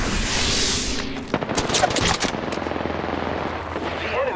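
Rapid automatic gunfire from enemies in the shooter video game Apex Legends crackles in quick, close bursts, layered with sharp individual shots and whooshing game effects.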